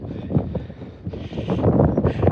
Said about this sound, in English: Sorry guys, it is a bit windy.